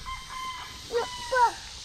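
A farm chicken, apparently a mother hen, gives two short clucking calls close by over a faint steady background hum, with no talk.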